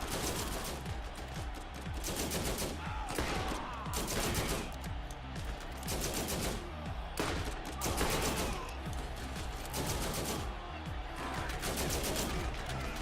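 Rapid, dense gunfire from Borderlands in Mad Moxxi's Underdome Riot, with loud bursts of automatic fire repeating almost nonstop across the whole stretch and only brief gaps between volleys.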